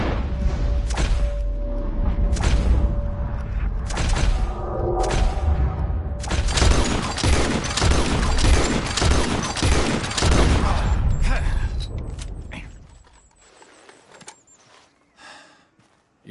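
Shotgun-like blasts fired at birds in a PS4 game, a string of loud separate shots with ringing tails, bunching into rapid overlapping fire midway, then thinning to a few faint sounds as things fall quiet.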